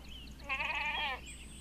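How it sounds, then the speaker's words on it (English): A goat in a video game gives a single clear bleat lasting about half a second, close and fairly loud against a quiet game background, with no talk over it. "Oh, you are a goat."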